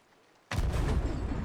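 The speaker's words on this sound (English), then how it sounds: "Now I shoot chain shot" A single loud cannon shot firing chain shot on a pirate ship in Sea of Thieves, bursting suddenly after near silence and trailing into a sustained heavy rumble.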